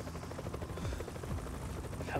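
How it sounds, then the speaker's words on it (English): A police helicopter in the video game Yakuza: Like a Dragon arrives with a steady, loud rotor roar throughout, while voices talk over it. "Helicopter, no!"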